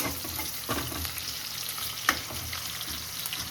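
Spoon stirring mango rice in a pan at home, with a faint steady frying sizzle beneath a few soft scrapes and one sharper clink near the middle, close and fairly quiet.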